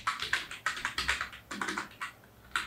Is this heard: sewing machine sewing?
no